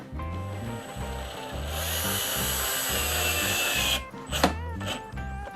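Power drill with a Phillips head screw bit driving a screw into peg board, a steady whirring buzz rising for a couple of seconds and then stopping, with rhythmic background music running underneath.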